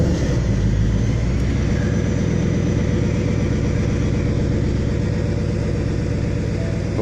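A Ford Mustang engine idles with a steady, deep rumbling burble, loud and close, and a faint rev at the very start; no voices are heard.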